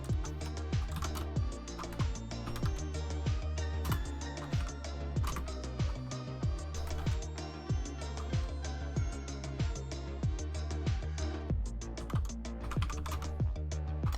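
Rapid, continuous typing on a computer keyboard, with dense clicking keystrokes in an uneven rhythm, close and fairly quiet, with no talk.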